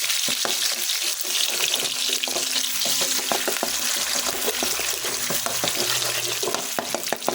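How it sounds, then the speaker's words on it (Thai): Eggs fry in a pan for stir-fried mee sua noodles, a steady close sizzle broken by repeated scraping and stirring clicks of a utensil, with no talk. "ให้ไข่ก็เซตตัวนิดนึงนะครับ"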